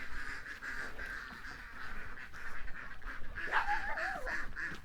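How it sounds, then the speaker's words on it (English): Ducks at feeding time call in steady nasal quacks and honks, close and fairly loud, with a rising excited burst of calls toward the end over outdoor background noise. "go in and feed the ducks"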